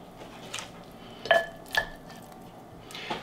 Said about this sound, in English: We're going to put some slices of onion in the bottom to set our meat on.